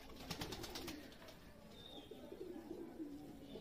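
Pigeons in a pigeon loft give soft, continuous low cooing, faint and steady throughout with no other sounds standing out.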